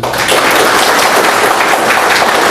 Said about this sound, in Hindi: चलिए एक बार ताली बजा लीजिए